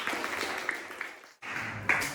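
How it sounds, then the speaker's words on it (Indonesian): A classroom of students claps together, a short burst of fairly faint applause that breaks off briefly and resumes. "Oke, tepuk tangan untuk kita semua"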